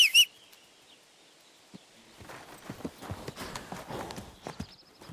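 Horse hooves clip-clop across ground in the medieval game Kingdom Come: Deliverance II, a steady run of soft, close footfalls building after a brief high chirp at the start, with faint bird calls in the background.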